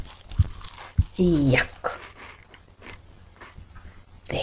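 Cartoon hippo and bird characters eating together, with a few sharp crunching bites and chewing sounds close by, mixed with a brief squeaky vocal and a short spoken word.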